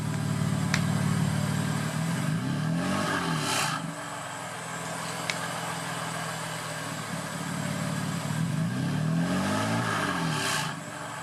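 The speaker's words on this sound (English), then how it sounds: "We're gonna do some light revs. Right now the valves are open." A 2019 BMW M4 Competition with a secondary cat delete and exhaust valves open gets several light throttle blips from idle, each rev rising and falling back to a close, steady burble.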